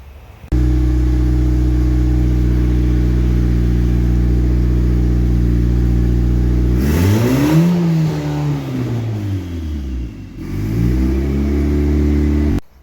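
Honda SOHC turbo car engine running on a dyno, a loud steady idle drone that climbs into a sweeping rev, drops back and rises again before settling, with no voices over it.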